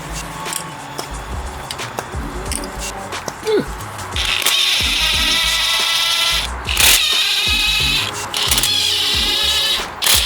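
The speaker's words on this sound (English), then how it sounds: "I got my trusted DeWalt brushless bit driver." A DeWalt brushless bit driver taking out a car's spark plugs, heard as a high, steady motor whir that runs in stretches and stops and starts, with clanks and handling noise between runs.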